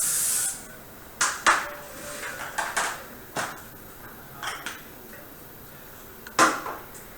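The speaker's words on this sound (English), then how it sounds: "Now we're going to spray our baking sheet." Short hissing bursts of cooking spray coated onto a baking sheet in a home kitchen, several quick sprays separated by pauses, with faint clinks of the pan between them.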